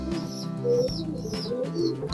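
Caged homing pigeons coo in low, repeated throaty bursts close at hand, with a few higher chirping notes, continuous and loud with no talk.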